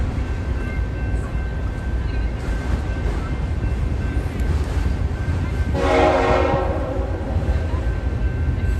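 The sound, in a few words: Union Pacific freight train horn honking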